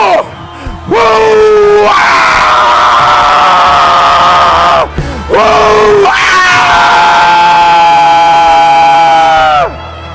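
A church congregation at a baptism service shouts and roars together in long, loud sustained bursts, with a short break in the middle before the crowd's roar swells again.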